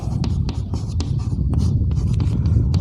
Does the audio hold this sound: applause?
no